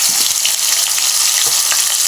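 Bitter gourd pieces sautéing in hot oil for an Andhra-style bitter gourd fry, a steady loud sizzle with faint crackles and soft stirring scrapes, no voices.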